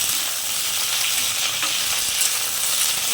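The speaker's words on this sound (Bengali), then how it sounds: "ভাজা ভাজা হোক" Red amaranth stems fry in a pan for a chorchori, giving a loud, steady, close sizzle with faint stirring and no voices.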